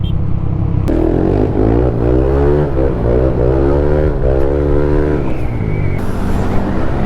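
A motorcycle engine drones loudly and steadily while riding in Calumpit, Bulacan, its pitch climbing and dipping through gear changes, close and continuous throughout.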